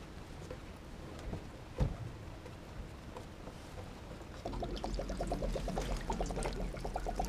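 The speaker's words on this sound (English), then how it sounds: "And now we'll just let it drain." Water pouring out of an RV water heater tank through its opened drain plug, a steady low gush and splatter that thickens into a fuller, louder flow partway through, with a single knock near the start and no talk.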